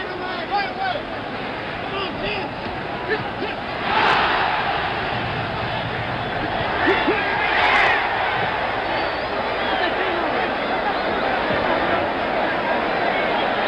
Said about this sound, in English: Crowd roars again as Young continues, unafraid, unmarked for that matter.